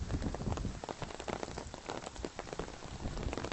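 Rain falls steadily on a path in Hong Kong on a dark, foggy day. The patter is dense and continuous, close by and fairly faint, with no voices.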